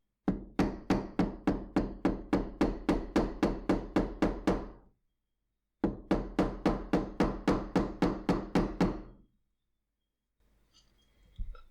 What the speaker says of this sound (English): we're going to just hammer it down, make sure we get the two sides completely pressed together.